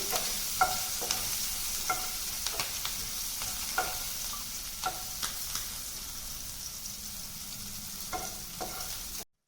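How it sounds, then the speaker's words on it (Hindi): Green chillies and ginger dropped into a hot cumin tempering for aloo samosa filling, giving a steady sizzle with soft stirring scrapes and small clinks throughout, close and alone. "तड़के में जो हमने कट करके रखा था हरी मिर्च और अदरक, इसे भी डाल देंगे"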